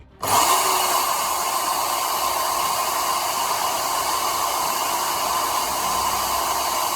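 A power drill bores holes into metal solar panel mounting brackets for a bus conversion, starting abruptly and running as one loud, steady high-pitched whine close by.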